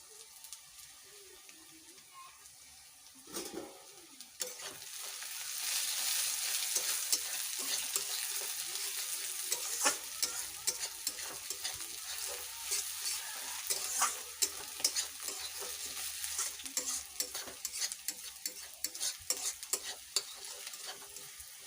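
Onions frying for an Odia-style mutton curry, a steady close sizzle with repeated stirring scrapes and clinks of the spoon against the pan, continuing without any talking.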